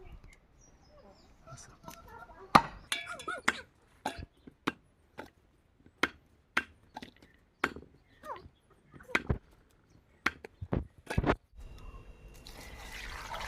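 A knife chops jackfruit into pieces, about twenty sharp, close taps in an uneven rhythm against a quiet background.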